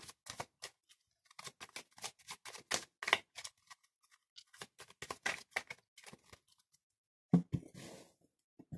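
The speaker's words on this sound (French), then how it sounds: "Je brasse les cartes" A deck of oracle cards is shuffled by hand in a quiet room, giving close, crisp bursts of riffling and flicking in quick irregular runs with short pauses, and a louder shuffle near the end.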